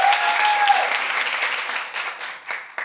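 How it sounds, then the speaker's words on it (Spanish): An improv theatre audience gives loud applause for the blue team, dense clapping that thins out toward the end into a few scattered claps, with a brief whistle early on. "Y otro fuerte aplauso para el equipo azul."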